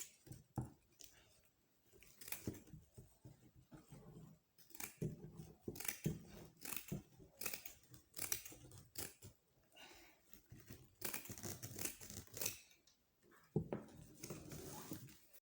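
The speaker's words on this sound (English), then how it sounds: "As I'm cutting it, you cut it out like this." Scissors snip steadily through stiff sinamay fabric while a fascinator is cut to shape, giving repeated close crisp cuts in irregular bursts.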